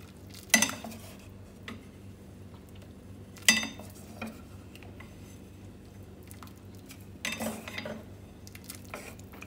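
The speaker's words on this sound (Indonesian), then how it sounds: "Jangan lupa mie-nya sambil diaduk-aduk." Noodles being stirred in a pan for bakmie, with three scraping, clattering bursts of utensil against metal over a steady low background hum and no talk.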